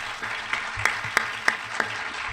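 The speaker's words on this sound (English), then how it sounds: "Could you give them one more round of applause?" An audience at an Old Dominion University keynote event claps for corporate sponsors: a faint, thin scattering of a few distinct claps over quiet room noise, irregular and sparse rather than a full ovation.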